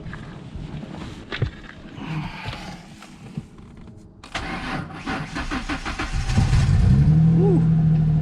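A turbocharged V6 Mustang cranks and fires up near the end. Clatter and shuffling give way to a loud, steady idle that settles in during the final seconds.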